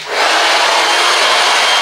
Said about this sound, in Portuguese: vou pegar o secador, vou começar secando esse cabelo com potência e temperatura no máximo